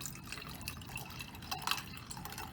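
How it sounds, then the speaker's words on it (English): Water poured into a cooking pot while making chicken biryani, a soft trickling and dripping stream with a brief louder splash near the end, close by and alone. "I'm going to add a little bit of water."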